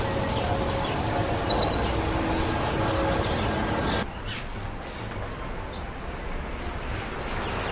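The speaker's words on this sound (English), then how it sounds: "Their chirping and whistling sounded melodious." Pin-tailed whydah song: bright repeated chirps and a run of high whistled notes up close for the first few seconds, then sparser scattered tweets against a soft background.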